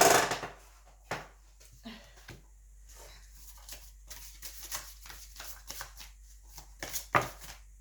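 Tarot cards handled close up, with soft irregular shuffling flicks and taps of cards laid down across several seconds and a louder riffle at the start, in a quiet room without talk.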